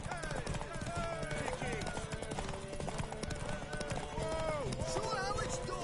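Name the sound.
horse galloping hooves in The Witcher III video game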